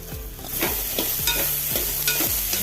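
Chopped ivy gourd stir-fried with grated coconut in a pan, a sizzle broken by regular scraping strokes about twice a second, close and fairly loud with no speech.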